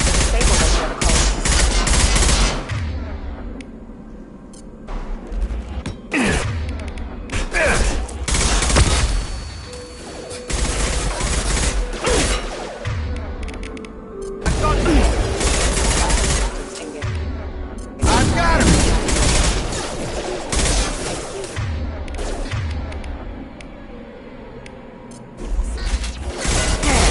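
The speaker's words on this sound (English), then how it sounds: "Hear that? Sounds like Fenris mechs." Fenris mechs in the Mass Effect 2 video game, bursts of loud mechanical clanking, whirring and gunfire-like rattles that come and go in waves, with a voice speaking among them.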